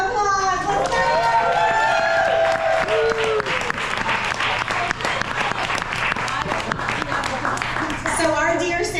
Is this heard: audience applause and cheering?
yes